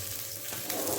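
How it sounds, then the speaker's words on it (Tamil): Squid fries in hot oil in a covered pan, giving a faint, steady sizzling hiss with light spattering crackles and no voices. "கனவா வந்து அந்த பக்கம் ஓவராக தெரிச்சிட்டு இருக்குது"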